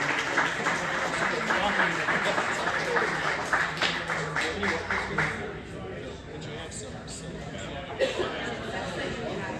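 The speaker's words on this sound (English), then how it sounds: "Let's give a big round of applause to Docker Slowdown." A bar crowd in St Paul, Minnesota applauds a performer, a dense wash of clapping mixed with chatter that gradually thins into scattered claps and murmuring voices.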